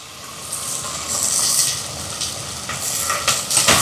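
Onions sauté in a pan for a Ceylon crab curry, a soft continuous sizzle with occasional stirring scrapes and clinks of a utensil against the pan, close and fairly loud.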